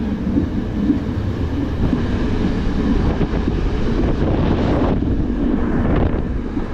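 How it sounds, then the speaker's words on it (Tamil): The Yal Devi intercity express train runs from Colombo to Jaffna, heard from on board as a loud, continuous rumble and rattle of carriages, with wind buffeting the microphone throughout. "ட்ரெயின் வந்து கொழும்புல இருந்து யாழ்ப்பாணம் நோக்கி பயணம் செய்யுது"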